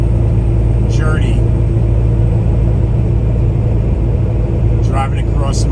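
Truck driving on an American road on a Christmas morning, a loud steady engine and road rumble throughout, with a voice talking over it.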